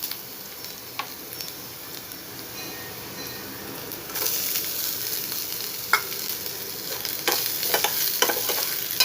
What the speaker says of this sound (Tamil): நல்லா வதங்கினாலும் பச்சை மிளகாவும் சேர்த்து வதக்கணும்.